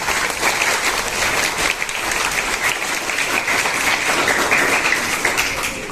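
An audience at an event on drug-abuse prevention claps loudly in a hall, a dense, sustained round of applause with no break and no voices over it.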